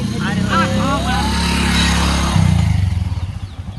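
A motorcycle engine idles and revs close by, its throbbing putter steady, while people talk loudly over it.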